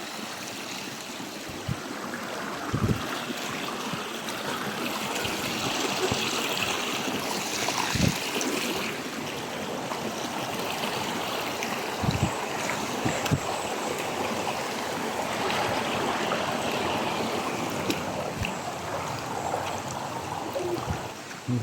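Stream water near Santa Maria, Laguna flows and trickles in a steady, close wash that stays even throughout, with occasional soft thumps of footsteps or handling and no talking.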